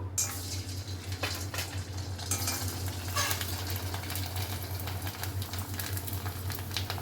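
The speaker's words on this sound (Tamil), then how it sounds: "நல்லா ஃப்ளவர் மாதிரி பொரியுது பாருங்கள்" Killu vadam rice crisps frying in hot oil, a steady close sizzle and crackle running throughout with small stirring clinks, no voices.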